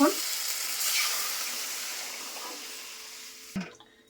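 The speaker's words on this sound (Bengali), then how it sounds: "পাশের গ্যাসে জল বসেছি, গরম জল, এই জলটা দিয়ে দেবো।" Hot water poured into tomato paste frying in a pan for a fish curry, a loud rushing sizzle at first that slowly fades, then a clunk of the vessel near the end.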